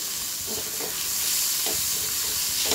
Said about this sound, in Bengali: গ্যাসটা একদম মিডিয়াম ফ্লেমে রেখে ভাজতে হবে।